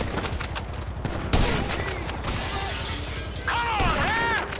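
Gunfire bursts erupt in the Grand Theft Auto V helicopter hostage mission, tangled with shouting voices, crashes and other busy game action throughout.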